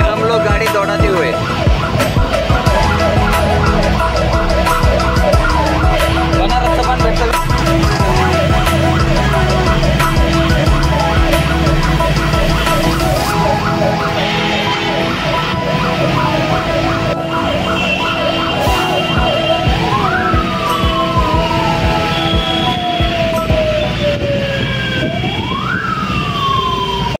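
A loud ambulance siren wails on and off over heavy engine and traffic noise in the streets of Varanasi, with rising and falling sweeps near the end.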